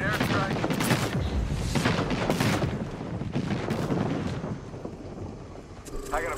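Airstrike explosions in the Apex Legends game: a dense barrage of booming blasts and rapid crackling detonations rolling on for several seconds, loud and close, then easing with a brief voice at the end.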